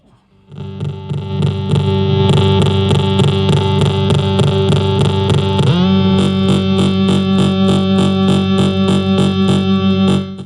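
A steady, buzzy Erica Synths oscillator tone through a vactrol mixer drones loudly with a rapid rhythmic pulsing, shifting to a lower, brighter pitch partway through.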